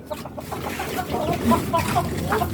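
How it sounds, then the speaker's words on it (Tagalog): A chicken clucks in a short series of soft calls, close by and moderately loud, with faint background noise throughout. "Is that a chicken?"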